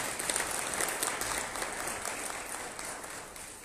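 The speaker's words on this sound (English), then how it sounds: "Please give him a round of applause." Sustained applause from a seminar audience at an annual budget review after a speaker finishes, a dense, even wash of many hands clapping throughout.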